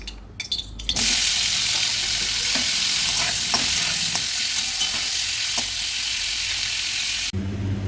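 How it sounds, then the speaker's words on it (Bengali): Potatoes fry in hot oil in a wok, a loud, steady close sizzle that bursts in after a brief clatter and runs unbroken for several seconds before cutting off. "এবার আলুগুলোকে ভেজে নেব।"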